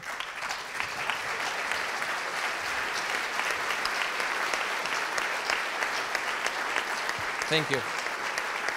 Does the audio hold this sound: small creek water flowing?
no